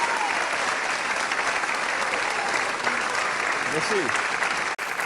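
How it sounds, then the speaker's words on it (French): An audience at a Messmer hypnosis show applauds the volunteers, with thick continuous clapping throughout while someone speaks briefly over it near the end. "Et on applaudit nos volontaires d'aujourd'hui,"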